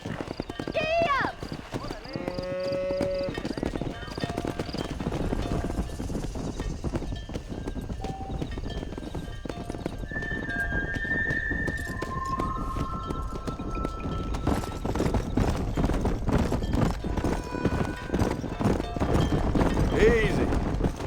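Horse hooves clip-clop steadily while riding in the PC game Red Dead Redemption, a continuous rhythmic trot with a brief whinny early on, mixed under voices and ambient game sound.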